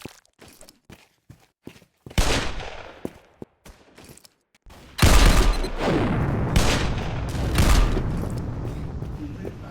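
In a Roblox game, scattered sharp gunshots crack out, then a loud grenade explosion booms, followed by sustained rumbling and bursts of rapid gunfire.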